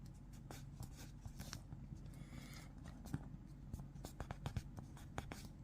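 Origami paper is folded and creased for a butterfly bookmark: faint, close, dry scratching and rubbing with scattered light taps, quiet and steady, with no talking.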